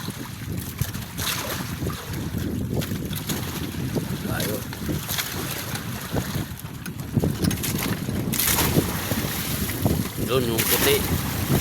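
Fishing boat out at sea in rough, choppy water, with steady wind buffeting the microphone and waves sloshing against the hull, loud and close while someone talks over it.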